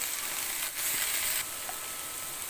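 Spring onions and carrots stir-fry in a pan for fried rice, giving a soft, steady sizzle with a brief scrape of stirring partway through.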